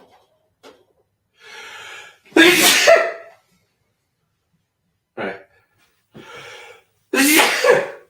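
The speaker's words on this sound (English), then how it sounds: "why am I sneezing so much?" A person sneezing repeatedly, two forceful close sneezes each preceded by a sharp inhaling gasp, spread across several seconds of otherwise quiet room, with a brief spoken word in between.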